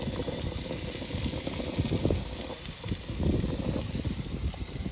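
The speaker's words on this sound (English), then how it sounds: "Listen to that sizzle." A steak sizzles as it cooks on a trip, giving off a steady close hiss with crackling pops throughout and no voices over it.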